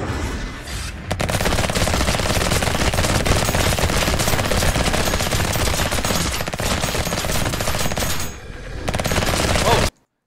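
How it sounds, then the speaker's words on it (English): Rapid, sustained automatic fire from a gun turret in the video game Revulsion, loud and continuous for nearly ten seconds with a brief dip near the end before cutting to silence. "let me show the gun turret first"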